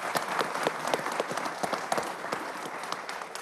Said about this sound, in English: I want to give Cooper a round of applause for such a job well done